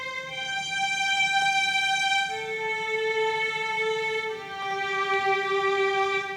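A melody is played back in music software with sustained string tones holding long notes that step downward in three slow changes, smooth and steady, with no voices.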